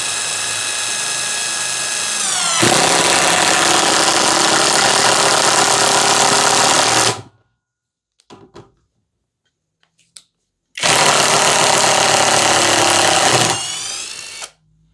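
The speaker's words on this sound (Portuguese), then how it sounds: "Agora o mesmo parafuso com a chave de impacto." A Hanabi LJ2022 impact driver drives a screw at low speed, with a whirring motor buzz that breaks into loud rapid impact hammering, then stops, then a second loud hammering burst before winding down.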